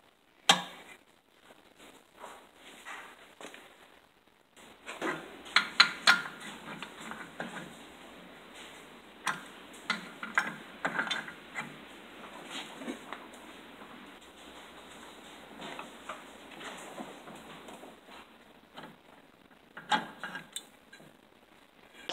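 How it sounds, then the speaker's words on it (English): A puller is worked to free the clutch from a Hirth 634cc snowmobile engine on a 1969 Ski Daddler, giving quiet irregular metallic clicks, ratcheting and scraping at close range, with no voices. "I'm going to insert the puller and then pull the clutch off really quick."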